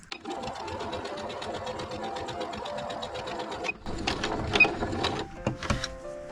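A sewing machine runs a steady rapid stitch along patchwork fabric seams for several seconds, then stops and restarts in shorter clattering bursts with handling noises.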